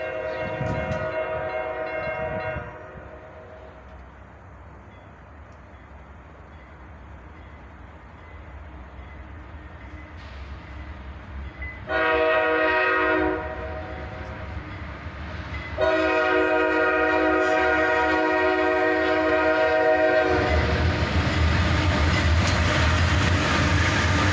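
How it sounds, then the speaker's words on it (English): A northbound CSX manifest freight train led by a CM40-8 and a CM44AC locomotive sounds long harmonic horn blasts over a steady rumbling engine and rail roar that grows louder as it passes close by. "A northbound manifest train, led by a CM40-8 and a CM44AC."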